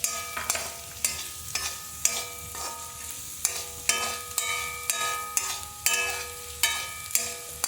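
Green chillies, cut in half, sautéed in a pan while making a puli keerai thokku, a steady sizzle punctuated by regular metallic scrapes and taps of the spoon against the pan, close and clear.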